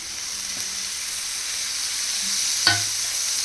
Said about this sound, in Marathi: आता मी याच्यामध्ये कांदा टाकून घेतलेला आहे.